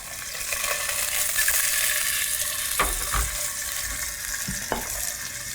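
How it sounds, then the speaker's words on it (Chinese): A tuna steak pan-fries with a steady, close sizzle that crackles and spits in a few sharper bursts, continuous throughout with no talking. "煎鱼的时候不要先给它翻动，让它静置一下"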